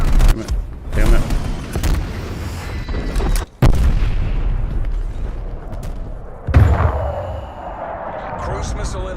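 Strafe run explosions in a video game: heavy booms and gunfire-like blasts rolling over several seconds, loud and close, with a few sharp cracks and a final big blast, a voice speaking over parts of it.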